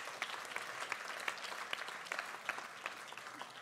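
Audience applause at a wine talk at the Cité du Vin, steady dense clapping from a crowd that holds through the whole stretch at a moderate level, with no voices over it.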